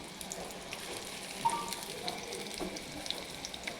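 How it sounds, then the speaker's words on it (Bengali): Fenugreek leaf fritters frying in hot oil at home, a soft continuous sizzle and crackle with scattered small pops, steady and close, no talking. "আস্তে আস্তে এই যে বড়াগুলোকে ভেজে নিচ্ছে"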